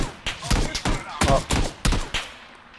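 Rapid exchange of gunfire in PUBG, a dozen or so loud, sharp shots in irregular bursts with dull thuds between, no voices.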